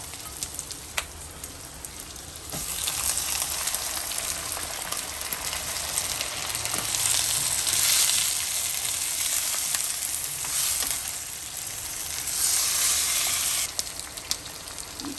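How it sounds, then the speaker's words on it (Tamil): Loud steady sizzling of onions frying in a hot pan before chicken is added, swelling and easing at times, with no talk. "வெங்காயம் லைட்டாக பொன்முருகில் வதங்கினதுக்கப்புறம் சிக்கனை போட்டுடலாம்."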